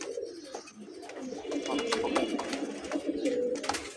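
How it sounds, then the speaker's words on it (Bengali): A pair of Bagha pigeons coo steadily and close by for about four seconds, the low soft calls repeating with little pause and no voices over them. "খুবই ভালো মানের এক পেয়ার বাঘা কবুতর"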